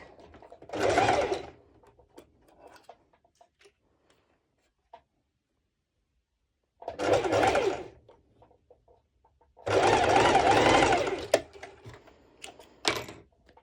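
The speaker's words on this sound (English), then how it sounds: "I'm going to do quickly a bust stitching" Sewing machine stitching bikini bottoms in three bursts of rapid whirring chatter, the last and longest running about two seconds, separated by quiet pauses with small handling clicks.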